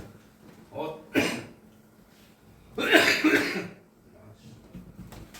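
Two sharp coughs, the second louder and longer, close by against a quiet room with faint voices in between.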